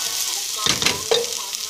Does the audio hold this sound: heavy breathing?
no